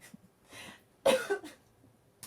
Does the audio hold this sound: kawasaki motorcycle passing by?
no